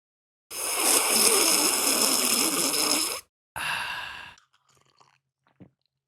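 Someone eats noisily close to the mic, a long continuous burst of wet slurping and chewing followed by a shorter second burst, then a few faint clicks in near silence.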